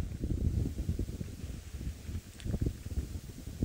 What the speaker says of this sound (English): You can probably hear the wind on my microphone. It's very, very windy.